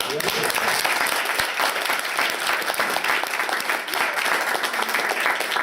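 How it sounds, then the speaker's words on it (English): An audience at a Rotary Christmas fun night in Bridge of Allan and Dunblane breaks into steady, dense applause that fills the room, continuous clapping from many hands heard close and loud throughout. "And I think that's worth a round of applause."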